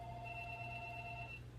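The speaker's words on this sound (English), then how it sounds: "The home phone was ringing." A home landline telephone rings steadily with a bright electronic trill, a single continuous ring lasting over a second before cutting off, fairly quiet and alone with no talking.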